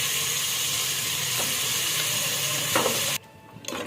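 Boiled chicken tipped into hot seasoning in a pan for palak chicken biryani, giving a steady broad sizzling hiss that cuts off abruptly near the end, then a faint return.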